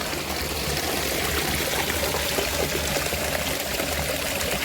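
Mountain stream gushing at its source high in the Harsil valley, a loud, continuous broadband rush of water, close and steady with no voices.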